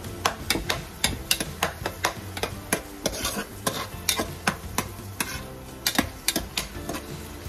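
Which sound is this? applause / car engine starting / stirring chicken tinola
stirring chicken tinola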